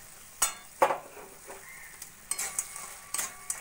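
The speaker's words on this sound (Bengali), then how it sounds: "নাড়া দিয়ে ভালো করে মিশিয়ে নিয়ে এবার আমি গ্যাসটা বন্ধ করে দেব" Carrot halwa with ghee, cashews and raisins being stirred in a pan, a faint background sizzle broken by a few sharp spoon-against-pan scrapes and taps, close up with no voices.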